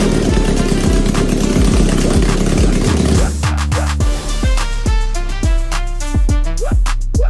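A Kawasaki Z1000 motorcycle, battered and under restoration, is loud and close, its engine turning over with rhythmic pulses before settling into a revving, uneven idle with a deep throb.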